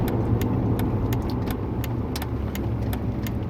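Steady low car engine drone, likely idling or cruising, holds constant and fairly loud throughout with faint clicks above it and no talking.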